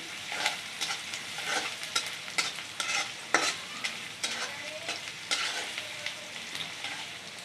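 Chopped garlic and onion are stir-fried in a pan for a Bangladeshi egg, potato and okra fry, giving a continuous close sizzle broken by repeated scraping stirs and spatula clicks, with no talking.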